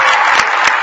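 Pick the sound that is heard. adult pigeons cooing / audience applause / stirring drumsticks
audience applause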